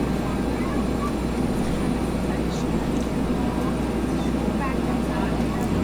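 A Bell 412 helicopter in the X-Plane 11 flight simulator drones continuously with a dense, steady rotor and turbine roar that holds at an even loudness from start to finish.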